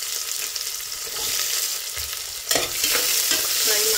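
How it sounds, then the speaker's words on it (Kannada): Two onions fry in hot oil with cloves, star anise, fennel, cardamom and stone flower for vegetable pulao, a close crackling sizzle with stirring scrapes that swell louder partway through, no voices. "ಫ್ರೈ ಮಾಡ್ಕೋಬೇಕು ಸ್ವಲ್ಪ ಕೆಂಪಗೆ"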